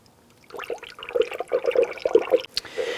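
Antifreeze poured into the coolant expansion tank of a 2004–2008 Acura TL, a gurgling, bubbling stream of liquid that starts after a short pause and runs steadily to the end, close and clear.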